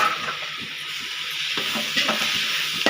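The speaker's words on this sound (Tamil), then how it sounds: "நல்லா வதங்கட்டும் தக்காளி." Tomatoes soften in a hot pan for tomato chutney, producing a continuous close sizzle with intermittent spoon scrapes and taps against the pan.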